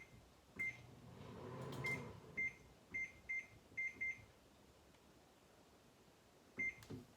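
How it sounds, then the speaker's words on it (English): Setting a kitchen timer for macaroni and cheese gives a string of sharp, close electronic beeps, some single and some in quick pairs, over a faint kitchen hum with a brief rustle early on. "Setting a timer for the macaroni and cheese."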